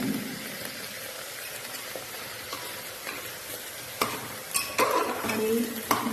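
Ingredients with ginger paste being stirred in hot oil for khichuri, a steady low sizzle with a few sharper scraping clacks of the utensil against the pan near the end, no talking.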